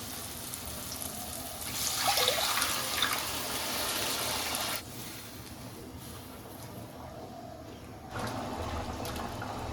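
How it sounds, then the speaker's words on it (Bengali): Cooked chana dal poured into a spiced cauliflower curry, a steady liquid pour and splash lasting several seconds, close and fairly loud, then easing into a softer continuous wash. "এবার আমি ওই ডালটা দিয়ে দেবো"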